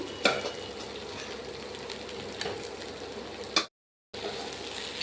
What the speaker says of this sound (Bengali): এবার ভেজে রাখা বাদাম আর কিশমিশটা দিয়ে দেব